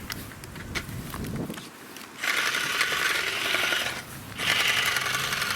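A toy chainsaw sawing an Australian tree with bark coming off, a rough buzzing whir in two sustained bursts after a quieter scraping start, close by.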